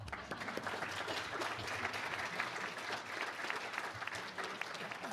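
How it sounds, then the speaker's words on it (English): Audience applause at a municipal candidate forum in Manitou Springs, steady dense clapping from a crowd lasting several seconds at moderate level, heard from within the room. "Now we can applaud."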